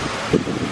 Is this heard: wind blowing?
yes